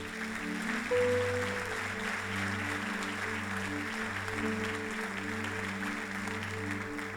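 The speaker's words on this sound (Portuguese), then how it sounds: "aplauda o Senhor bem forte" A church congregation applauds in a steady, far-off wash of clapping, quiet beneath sustained keyboard chords played during the service.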